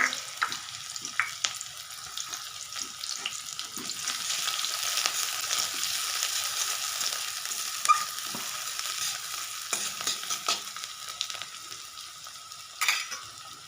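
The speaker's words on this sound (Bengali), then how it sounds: "এবার আমি এই তেলের মধ্যে দিয়ে দেব একটা বড় সাইজের কুচনো পেঁয়াজ" A large chopped onion hisses in hot oil, with a continuous close sizzle and scattered spatula scrapes and clinks against the pan, for a village-style fish curry. The sizzle swells gently and then settles, with no voices.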